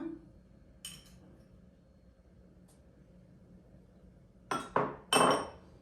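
A utensil works through cake batter with butter and vanillin in a bowl, mostly quiet, then a few sharp metallic clinks against the bowl near the end.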